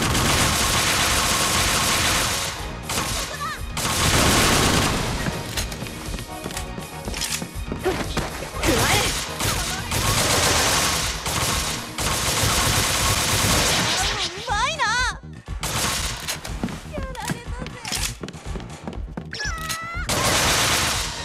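Rapid bursts of assault rifle gunfire from the PS Vita shooter game Bullet Girls 2, aimed at a barrel, run almost continuously with impacts mixed in, and game voices break through now and then.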